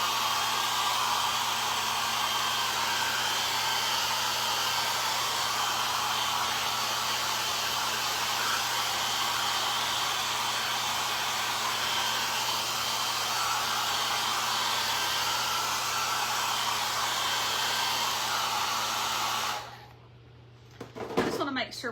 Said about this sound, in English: I'm going to blow dry it right quick.